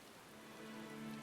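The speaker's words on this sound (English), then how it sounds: "It even crossed over into the next weather change, I guess, and it's still raining." Steady rain falls in the Final Fantasy XIV: Stormblood game world, a soft, continuous hiss of drops on surfaces that swells slightly toward the end, heard alone with no voices.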